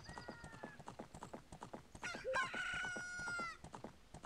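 A rooster-like Cucco from The Legend of Zelda: Ocarina of Time crows loudly once in a long, wavering cock-a-doodle-doo, preceded by scattered clucks and soft rhythmic clopping game sounds.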